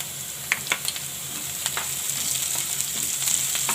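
Onions and chillies fry in hot oil, giving a steady sizzle with scattered crackling pops and occasional stirring, moderately quiet and without talk.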